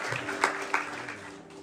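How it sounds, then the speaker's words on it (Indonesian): Church congregation applauding, a dense, fairly faint patter of many hands clapping with a droning background tone underneath. "kita berikan tepuk tangan yang meriah buat Yesus"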